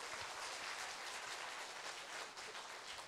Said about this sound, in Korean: 맞으면 박수 한번 칩시다.